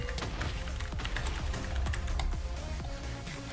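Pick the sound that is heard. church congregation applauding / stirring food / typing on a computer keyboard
typing on a computer keyboard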